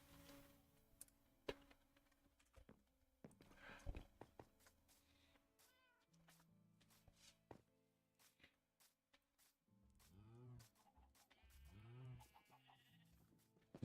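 Minecraft sheep bleat in short wavering calls, several of them, with scattered game clicks and thuds between, fairly quiet and mostly alone.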